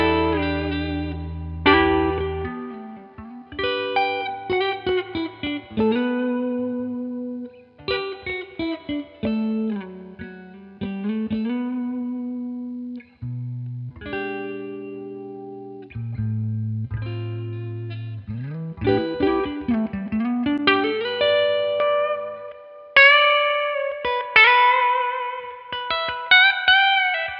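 An electric guitar with PAF-style pickups through a Gibson GA15-RV tube amp plays sustained chords and single-note lines, each note trailing off in a lush, lingering reverb tail; no voices.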